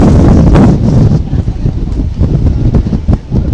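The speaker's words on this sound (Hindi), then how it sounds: "द्वारका में बहुत तेज हवा चल रही है" Strong cyclone wind on the Gujarat coast at Dwarka buffets the microphone in loud, gusting bursts, rumbling and roaring unevenly from start to finish.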